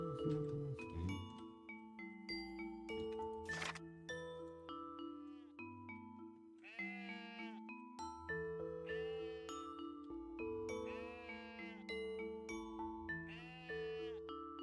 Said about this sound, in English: some of the sheep sounds are the same ones One Shot used